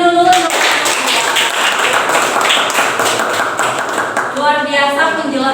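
Audience applause at a group presentation on rickets and polio, dense steady clapping filling the room from start to finish, with brief voices at the edges.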